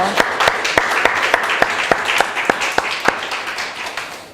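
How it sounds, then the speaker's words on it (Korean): Applause from a church congregation during a year-end thanksgiving service in Singapore, with steady clapping and sharp individual claps standing out, filling a large room for about four seconds. "우리 하나님께 영광의 박수 올려드리겠습니다"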